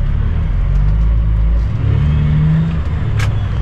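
Truck with an 18-speed manual transmission revs its engine while shifting gears, a close, steady mid-range drone that dips briefly between gears and then climbs again.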